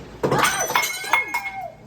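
Glass breaks inside an SM department store, a quick series of bright clinks and ringing shards over about two seconds, close and fairly loud, with some background voices.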